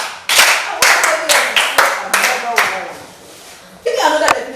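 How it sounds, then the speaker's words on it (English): A classroom group claps in several short bursts of applause during a school lesson, loud and close, with a brief pause and a final burst of clapping at the end. "Please give her a sound clap."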